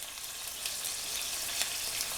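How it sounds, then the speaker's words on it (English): Onions and scallions fry in a pan with garlic, pepper, culantro, curry powder and masala for a Guyanese fish curry, giving a steady, close hiss of sizzling with faint crackles and no talk. "While your onions and your scallions are frying up"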